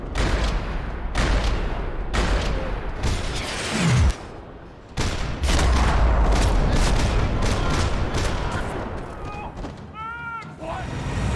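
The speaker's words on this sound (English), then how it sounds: "Another parking lot rattling with gunfire." Gunfire in a parking lot in the video game Max Payne 3: dense bursts of shots and booming impacts rattle continuously, broken by a brief lull, with game sounds layered over the barrage.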